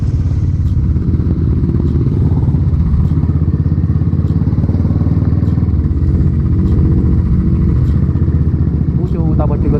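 Honda CB600F motorcycle with an aftermarket exhaust being ridden on a road, a loud, deep, continuous engine rumble close to the microphone with rapid firing pulses, while faint voices can be made out under the noise.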